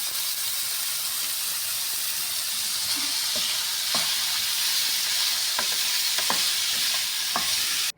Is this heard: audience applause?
no